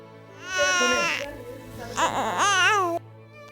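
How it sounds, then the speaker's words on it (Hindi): A hungry infant cries in two loud, wavering wails separated by a brief pause, close and alone. "बच्चा रो रहा है"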